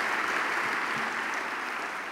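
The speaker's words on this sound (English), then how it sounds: "let's give a big round of applause to Ron as well" Audience applause at the Notre Dame Football Echoes 2017 event, honoring a staff member: a steady, dense wash of clapping that holds evenly for the whole stretch and fades slightly at the end.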